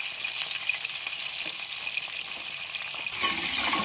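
Crab pieces frying in hot oil make a dense, even crackling sizzle, close and steady throughout, with a brief louder spatter near the end.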